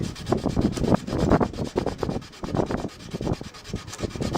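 Close, rhythmic scratchy rubbing as a violin's back is sanded down to the bamboo layer, in repeated back-and-forth strokes of uneven loudness with no voices.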